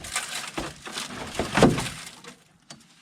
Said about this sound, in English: now I'm going to pull this windlace off the back glass